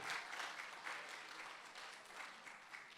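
Faint, distant applause from an audience at a class survey presentation, a brief wash of many hands clapping as a show of opinion, fairly even throughout.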